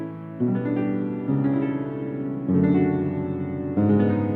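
Piano chords change several times while the pedal is held, so each new chord blurs into the ringing of the previous one in a continuous wash.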